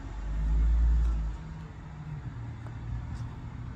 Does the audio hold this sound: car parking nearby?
yes